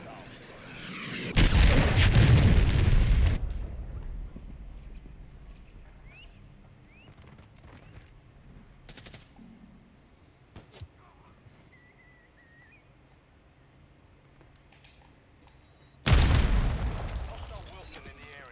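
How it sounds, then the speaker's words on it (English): Cruise missile explosions in Call of Duty Modern Warfare III, two heavy booming blasts separated by a long gap, with faint distant battle noise and a voice in between. "Hostiles launched a cruise missile."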